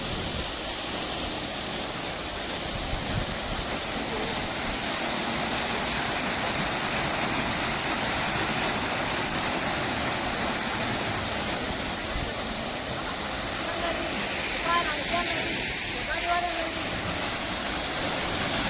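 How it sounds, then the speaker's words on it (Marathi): A Mira Energy 5 HP solar pump gushes water in a steady, loud, broadband rush like a small waterfall, continuous and unbroken, with no clear talk over it. "परत एकदा तुम्ही हा सोलर पंप बघा, पाणी प्रेशर बघा मित्रांनो, मस्त पाणी प्रेशर आहे"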